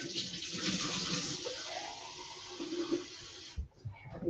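Water runs steadily from a kitchen tap into a glass for about three and a half seconds, a close hissing gush that stops abruptly and is followed by a few small clinks.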